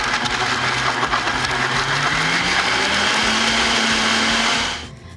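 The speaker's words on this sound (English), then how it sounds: "I'm just gonna turn it on and just blend it." A blender whirring steadily as it purees basil, walnut and avocado pesto, loud and close, its pitch rising slightly before it shuts off abruptly near the end.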